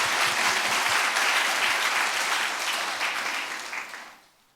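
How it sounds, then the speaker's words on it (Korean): Church congregation applauding during a Sunday sermon, a steady broad clapping from a full room that holds for several seconds, then thins and fades out at the end. "박수 한번."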